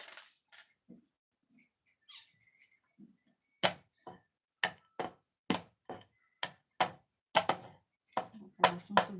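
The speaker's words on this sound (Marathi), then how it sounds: "आता लसूण थोडासा ठेचून घेते" Garlic being crushed in a home kitchen after onions are cut, sharp pounding strikes arriving in an irregular series, a dozen or so close, distinct thuds after a quieter stretch of faint shuffling.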